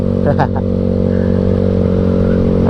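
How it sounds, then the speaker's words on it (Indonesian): Yamaha Mio scooter engine held at a steady, loud, close drone while riding, with someone talking over it briefly near the start. "Responnya enak banget gasnya, kita betot dikit ya udah nyambut gitu tenaganya ya."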